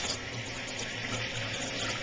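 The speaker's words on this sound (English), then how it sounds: "Now we're ready to turn the water on." Water rushes steadily into a toilet tank as it refills after the supply valve is reopened following a flush valve replacement, a constant close hiss and gurgle with no speech.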